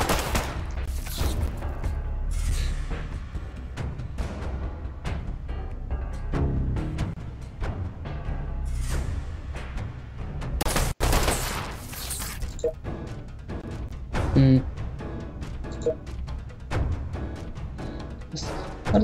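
Sharp, repeated shots from a .32 pistol ring out in irregular bursts amid combat noise in the Fallout Shelter video game, moderately loud and fairly close.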